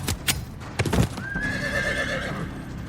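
Small horses carrying light mounted archers whinny and clip-clop: a few sharp hoof thuds at first, then a long, clear, high neigh that carries over steady hoofbeats at middle distance.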